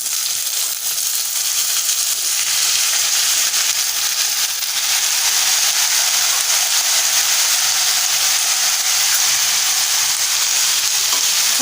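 Finely chopped ivy gourd (tondli) and potato hitting hot oil with browned onion in a pan, a loud, steady, close sizzle and hiss that carries unbroken throughout with no voices.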